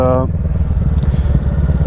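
A 2023 Kawasaki Ninja 650 parallel-twin engine runs close by with a steady, throbbing, rough low burble, briefly overlapping a voice at the start.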